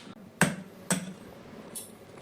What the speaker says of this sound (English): crack one egg.